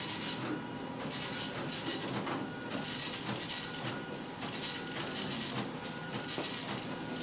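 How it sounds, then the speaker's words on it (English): A dot matrix printer prints continuously with a dense, buzzing rasp that pulses in regular bursts as the print head sweeps back and forth across the paper, steady and close throughout. "Is this a 24-pin printer?"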